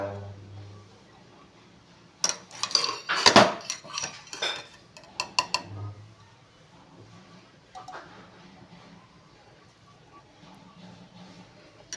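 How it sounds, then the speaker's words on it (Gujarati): A spoon clinks and taps against a pan on the stove as ghee goes in for beetroot halwa, a quick cluster of metallic knocks and scrapes, then quieter kitchen sounds. "અહીંયા બે ચમચી આપણે ઘી એડ કરીએ છીએ"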